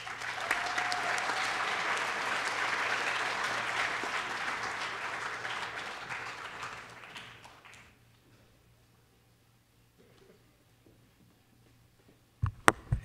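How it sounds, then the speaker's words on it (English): Sustained applause from a crowd, loud and steady for several seconds before fading out to quiet, then a couple of sharp thumps at the end. "One big round of applause once again for our inductees, Dr. Albert and Mr. Brenner."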